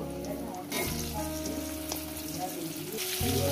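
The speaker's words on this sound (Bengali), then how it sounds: "জিরেটা আমি কয়েক সেকেন্ড ভেজে নিয়েছি। এরপর দিয়ে দেবো আলু।" Potatoes going into hot oil with whole cumin seeds that have fried a few seconds, setting off a loud continuous sizzle that swells as they land, with a clatter near the end.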